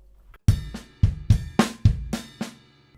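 Drum kit playing a paradiddle coordination groove, kick drum hits landing with accented hand strokes in a syncopated dotted-eighth pattern, close and punchy with about seven strong hits over a few seconds, no talking.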